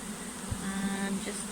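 A honey bee swarm buzzing as it enters a collection box, a continuous close droning hum with a soft thump partway through.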